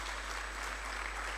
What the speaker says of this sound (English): Let's clap hands for that.